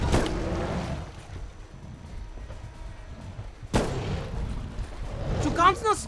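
Gunfire in a Bigfoot hunting video game: two loud, booming shots about four seconds apart, each trailing into rumbling noise, with game sounds in between.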